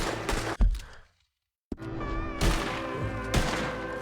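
Video game gunfire arrives in sharp bursts near the start, then cuts to near silence before loud shots and a sustained ringing, echoing tail return with tonal background sound.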